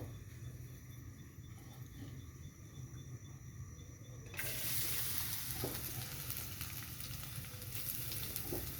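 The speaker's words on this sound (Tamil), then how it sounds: "ஓரளவு கடுகு சேர்த்தாச்சு. அது கொஞ்சம் நல்லா பொரிஞ்சு வரும்போது" Mustard seeds spluttering in hot oil in a Sri Lankan kitchen: a soft sizzle that suddenly swells into a louder, denser crackle halfway through, continuous and close, with faint scattered pops.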